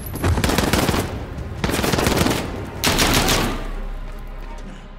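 Three long, loud bursts of automatic gunfire in Call of Duty: Modern Warfare (2019) realism mode, separated by brief pauses, with the final burst trailing off into a fading echo.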